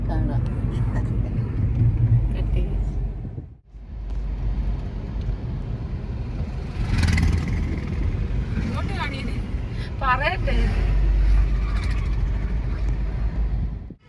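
Car driving steadily on the way to a wedding reception, a continuous low engine and road rumble from inside the cabin, with a brief dip partway and soft voices and chirpy sounds at times over it.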